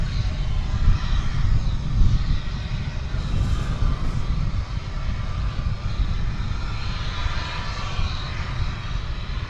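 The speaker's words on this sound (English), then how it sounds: "that is a That United plane that just took off" A United airliner taking off at DFW Airport, a broad steady engine roar heard from a distance, holding at a constant level throughout without talk.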